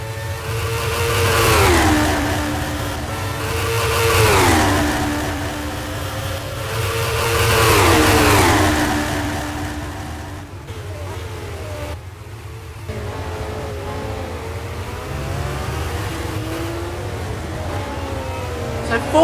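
Race car at Brands Hatch in the Simraceway racing game, its engine loudly revving up and down through gears in repeated rising sweeps, then running steadier and quieter under commentary-style background.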